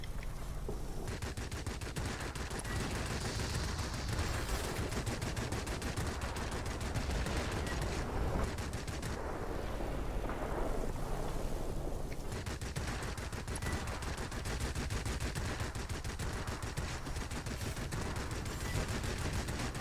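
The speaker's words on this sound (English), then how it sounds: "the cannons do a pretty good job taking out ground targets" Rapid, continuous bursts of heavy cannon fire from an Ilyushin attack aircraft in World of Warplanes, strafing ground targets, loud and sustained with dense rattling shots throughout.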